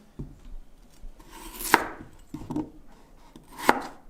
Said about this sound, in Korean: 재료를 한번 썰어 볼게요.